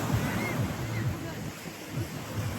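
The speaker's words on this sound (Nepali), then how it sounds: "सुरुरु हावा आउँदैछ" Cold wind buffets the microphone with a steady roar while waves wash in at Portsmouth Beach in spring, and low voices murmur faintly underneath.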